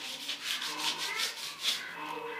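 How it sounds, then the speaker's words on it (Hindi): A brush scrubs a kitchen shelf beside the stove, giving steady back-and-forth rubbing strokes in a quick, even rhythm, close and fairly loud with no talking. "ये देखें, इस तरह तमाम जो है वो मैं ऐसे रगड़ रही हूँ"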